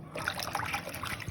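Running water trickles and splashes steadily as fresh vegetables are rinsed by hand outdoors, a close, continuous liquid patter with small gushes.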